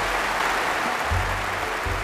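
A television studio audience at a family variety show claps steadily for a stage performance, a dense even wash of applause filling the short moment.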